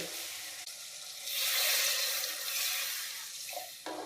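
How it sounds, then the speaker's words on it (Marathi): Water is poured into a pan of cooking tomato curry, a soft close hiss and splash that swells in the middle and fades, with a faint sizzle around it. "पाणी टाकते आहे।"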